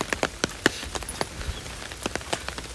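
Rain falling on a rainy day at Kiyosumi Garden, a Japanese landscape garden, heard as scattered close drops and taps over a steady soft patter, with no talking.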